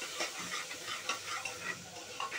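Spice masala with salt, turmeric, red chili powder and garam masala frying in a pan for a chana and black urad dal, a steady close sizzle with scraping stirring strokes, no talk.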